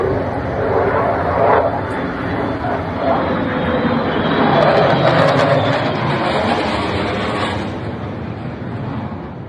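F-22 Raptor fighter jets flying over, a loud broad jet roar that swells and fades across several seconds, with a voice talking faintly beneath it.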